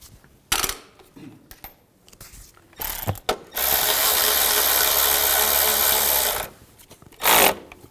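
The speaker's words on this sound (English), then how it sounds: "take the bolts, get those all started" Bolts on a bracket being tightened on a 2000–06 GMC Yukon engine, with a few clicks and clatters, then a long, loud steady whir from a power tool lasting about three seconds, and a final short burst.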